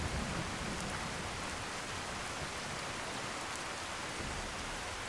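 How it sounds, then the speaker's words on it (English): Heavy downpour in the video game Skyrim: dense, steady hiss of rain falling, continuous and fairly soft throughout, with no voices. "We are talking about a complete downpour here"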